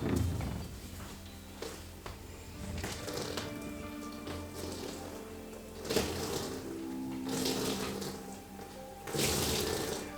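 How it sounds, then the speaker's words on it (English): Water runs and splashes steadily with a few clinks and sloshes as it drains from a bowl of wet felt during hat making, close by and moderately loud, with no talking. "I'm going to take it off the mold and drain the water out."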